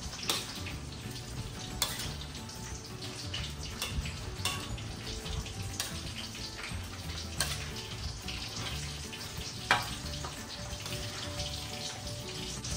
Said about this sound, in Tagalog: Dagdag lang kayo ng kaunting tubig hanggang sa lumambot yung langka kasi nga natutuyuan ito.